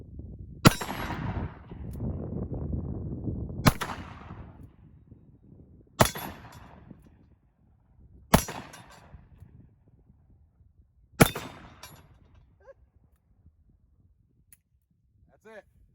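Five loud, sharp gunshots from a Ruger Super Blackhawk Bisley revolver, spaced a few seconds apart outdoors, each with a brief echoing tail, while someone talks between shots.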